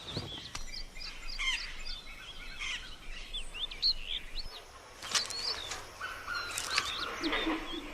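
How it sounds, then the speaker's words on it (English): Wild birds in India's Gir forest give repeated sharp chirps and whistled calls, some near and some farther off, over a soft background of insects and rustle, with no talking. "Over 300 species of birds and 36 species of reptiles have made the gyr their home."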